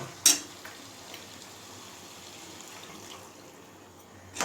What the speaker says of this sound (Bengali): গরম জল দিয়ে দিলাম তেল ভেসে উঠেছে